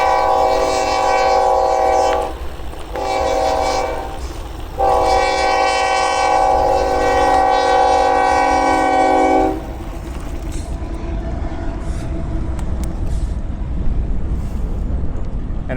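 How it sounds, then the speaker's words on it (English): A train rolls past close by, its horn blaring in long sustained blasts with a brief gap between them, then cutting off while the rumble and clatter of the passing cars carries on steadily to the end. "Here comes the train."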